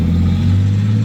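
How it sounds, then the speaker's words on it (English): A car engine drones loud and close with a steady low hum, held at a constant pitch for a moment. "I've got some neighbors with some very loud cars."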